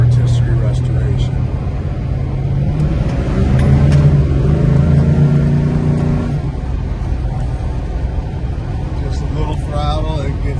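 A 1969 Plymouth Road Runner A12 with its 440 Six Pack V8 rumbles loudly up close and revs up under throttle before easing back to a deep idle, while someone talks over it.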